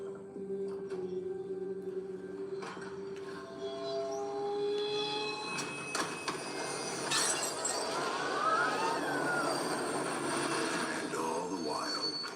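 A train ride runs as a steady rumbling, clattering bed, with scattered metallic clinks and squeals rising over it for about twelve seconds; no one speaks.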